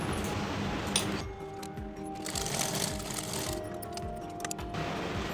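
A sewing machine runs a long gathering stitch on fabric for a frill, a steady close mechanical whir with rapid needle ticking and a few small clicks, no talking.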